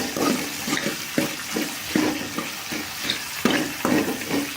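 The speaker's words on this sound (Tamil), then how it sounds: "அந்த வெங்காயத்தை அரிஞ்சு வச்சுருக்கேன் பாருங்கள், அதை எடுத்து கொட்டுறோம். இது நல்லா ஒரு நிமிஷம் வேகணும்" Chopped onions fry in a pan with a close, continuous sizzle broken by regular, rhythmic spatula stirs, about one stroke every half second, with no voices.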